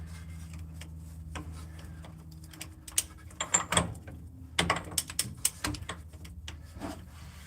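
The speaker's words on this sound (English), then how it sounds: "number one is ratcheting to the wrong side" A ratcheting wrench clicks against a pinion flange during a pinion flange replacement, giving a few close, sharp bursts of ticking after a quiet, humming start.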